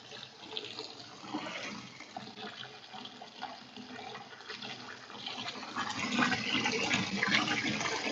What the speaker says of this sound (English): So strain out the water.